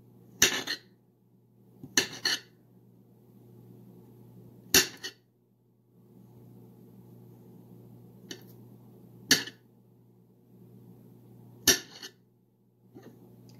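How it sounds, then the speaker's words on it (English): Sharp knife mincing garlic on a cutting board, heard as six spaced bursts of quick chopping taps, each a short cluster of close, crisp strikes separated by pauses over a low steady hum. "now you just have to take them and you just have to mince like this"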